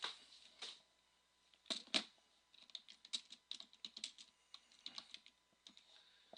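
Someone types on a computer keyboard, quick irregular clusters of close, quiet key clicks with brief pauses between them, no talk.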